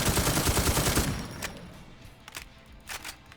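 An M134 minigun fires continuously in the online zombie shooter Infestation, a loud dense stream that cuts off after about a second, followed by a few scattered, fainter shots and reverberation.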